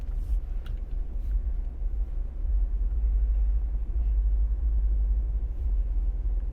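A truck idles behind a stopped 2020 Chevy Impala LT at a light, a steady low diesel-like rumble heard from inside the quiet cabin, continuous and unbroken with no talking.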